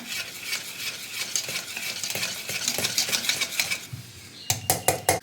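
Dhokla batter being whisked steadily in one direction in a bowl, a continuous close scraping and swishing that is briefly quieter before a few sharp clinks at the end.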